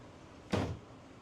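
A single short thud of a refrigerator door swinging shut on a boat, close by, followed by quiet room noise.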